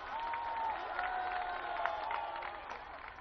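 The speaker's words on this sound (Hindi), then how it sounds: "एक बार जोरदार तालियों के साथ अभिनंदन।" A large crowd at a Dussehra celebration in Delhi claps and cheers, a faint, distant wash of applause with some whistling tones over it that continues for a few seconds.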